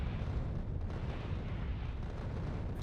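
Rocket fire at a large alien hive in Factorio: a continuous dense rumble of overlapping explosions, steady and loud throughout with no clear gaps.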